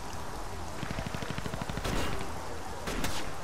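Gunfire in the video game TimeShift: a rapid automatic burst of shots in a steady rhythm, followed by two louder, sharper blasts, with no talking.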